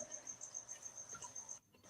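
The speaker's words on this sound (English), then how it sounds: "Oh, are the crickets distracting?" Crickets chirp steadily indoors, a faint high-pitched trill repeating in an even rhythm with no voices over it.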